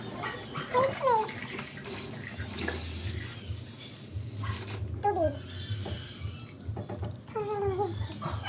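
Water running into a pan for paksiw na tilapia, a continuous close gushing stream with splashes, while voices, including a child's, talk over it.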